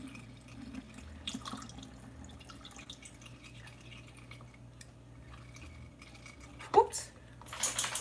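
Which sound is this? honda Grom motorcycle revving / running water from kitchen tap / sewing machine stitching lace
running water from kitchen tap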